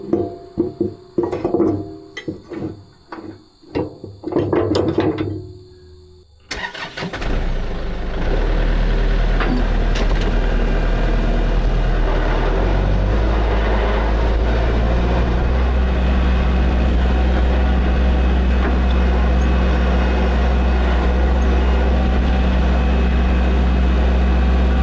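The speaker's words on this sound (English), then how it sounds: "Let's grab the tractor" Tractor engine starts after a few seconds of clanking and rattling, then idles and runs steadily and loudly close by at a woodyard, low droning rumble with no speech.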